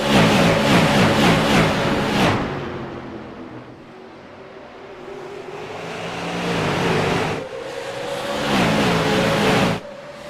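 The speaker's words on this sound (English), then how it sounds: "These cars sound so good." Loud super late model race car engines roar and whine past at high revs, fading briefly before another surge of cars screams by.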